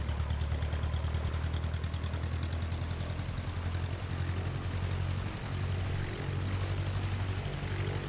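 Propeller aircraft engine in the Brick Rigs video game, a steady loud droning buzz with a rapid pulsing beat as the plane rolls off and takes off, continuous with no voices.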